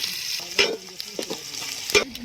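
Spices, curry leaves and onions sizzle in hot oil for a village-style country chicken curry, with a steady frying hiss broken by sharp scrapes and clinks of stirring.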